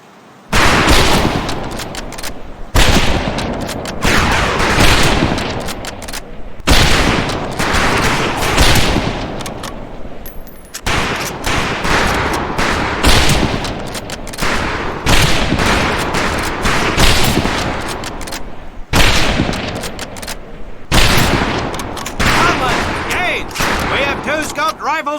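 Rifle fire on a firing range in the World War II shooter game Medal of Honor: Pacific Assault: loud, dense volleys of many overlapping shots with brief pauses between bursts, sustained throughout, with some speech underneath.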